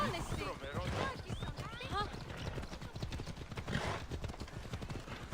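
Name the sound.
horse hooves clip-clopping in Assassin's Creed Odyssey video game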